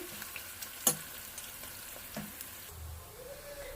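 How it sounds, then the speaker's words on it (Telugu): Bitter gourd (kakarakaya) frying in a pan gives a faint, steady sizzle with a few soft stirring clicks, heard alone without talk. "ఈ విధంగా ఫ్రై చేసుకోవాలి."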